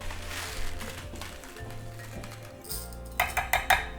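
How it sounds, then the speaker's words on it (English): Coconut oil and beeswax go into a heat-safe bowl for a hand balm, bringing a run of close, bright clinks and knocks of spoon against bowl that cluster near the end, over a low steady background hum. "We start by combining 1 tablespoon of coconut oil, and 1 tablespoon of beeswax in a heat-safe bowl."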